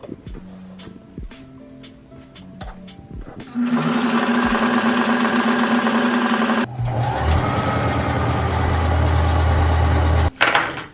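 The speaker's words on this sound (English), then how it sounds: "When you sew the straight stitch, make sure you sew towards the bottom of the elastic band so that everything stays down." A sewing machine runs a straight stitch along an elastic band on a co-ord set sewn from a men's shirt, whirring steadily in two long close bursts after a few soft clicks, with a brief pause near the end.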